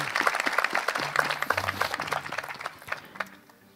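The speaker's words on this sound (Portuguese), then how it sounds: "Vamos dar uma salva de palmas." A wedding crowd breaks into a dense round of clapping during the ceremony; the applause is close and steady, then thins out and fades over the last second.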